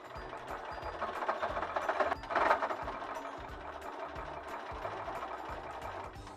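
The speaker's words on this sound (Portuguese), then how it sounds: "Vamos posicionar assim e vamos costurar em toda a volta." Electric sewing machine stitching all the way around the edge of a fabric gnome hat, a steady close motor whir with rapid needle chatter running continuously throughout.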